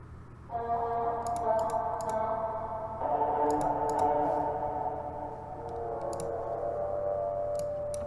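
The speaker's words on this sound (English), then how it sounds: "I found a really cool chop from Arcade. It's like a guitar type sound." A guitar-like sample chop from Arcade, taken from an 80s pack preset, plays in a dark R&B beat as sustained plucked harmonic tones that change pitch, with light clicky percussion ticking above them.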